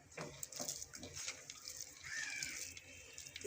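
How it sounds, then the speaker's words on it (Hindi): Soaked lentils pour into hot water in a cooking pot, giving a soft splashing and sloshing that swells midway, faint and close with no talking. "हमारा पानी अच्छे से गर्म हो गया है तो अब मैं इसमें शामिल कर दूँगी वो दाल"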